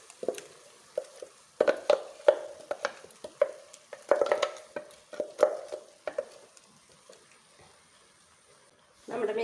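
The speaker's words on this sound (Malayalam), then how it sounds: "നമ്മൾ അരിച്ചെടുത്ത അരിപ്പ് ഒഴിച്ചു കൊടുക്കാം" Strained coconut paste poured into a pot of cooked banana stem curry: close, wet splashing and stirring bursts come in irregular spurts, with a quiet pause and then a fuller, longer pour at the end.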